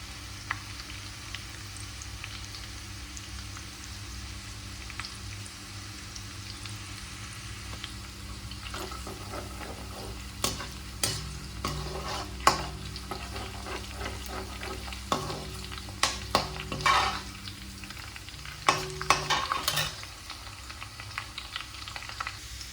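Garlic and ginger frying over a low flame in a pan for prawn curry, giving a steady close sizzle with scattered spoon clicks and scrapes that grow busier toward the end.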